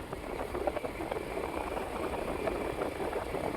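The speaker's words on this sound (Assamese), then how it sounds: "মানে বাইক চলি থকা অৱস্থাত" A motorbike engine runs steadily while riding, a quiet, even hum with road and wind noise and no clear changes in pace.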